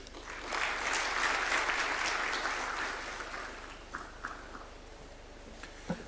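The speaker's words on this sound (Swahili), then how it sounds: "Tumpongeze tena kwa makofi." Applause from an audience at a State House reception for the Harambee Starlets and Junior Starlets football teams, a broad crowd clapping that swells, holds for a couple of seconds, then thins into scattered claps and fades.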